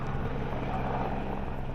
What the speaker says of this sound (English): Oh, there goes the helicopter.